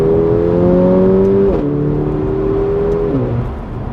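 A turbocharged four-wheel-drive Mercedes A45 AMG with a paddle-shift gearbox revs hard and loud, its engine note climbing steadily, then dropping at two quick gear changes before easing off.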